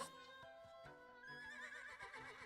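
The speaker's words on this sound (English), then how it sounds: "So you lay a carrot, and that sends your horse running." A horse neighs in a video game after being summoned with a carrot, giving a clear, drawn-out whinny over a quiet musical backdrop with a few soft hoof-like taps.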